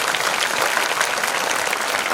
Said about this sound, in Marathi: मग टाळ्या कमी का वाजताय?